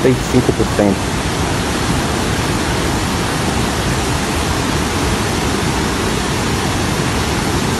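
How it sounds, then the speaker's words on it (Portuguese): Water pouring over the wall of the Oiticica dam in Brazil's semi-arid region as the full reservoir spills, a steady, loud broadband roar throughout, with brief voice-like sounds near the start. "passando a água por cima do paredão"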